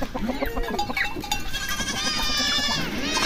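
A large herd of goats bleats continuously in a rural pasture, with many overlapping calls near and far forming a dense, steady chorus without speech.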